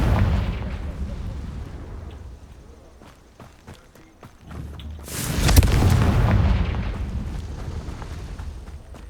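A Confringo blasting spell bursts into a loud, booming explosion in the Hogwarts Legacy video game, preceded by scattered combat clicks and followed by a long fading rumble.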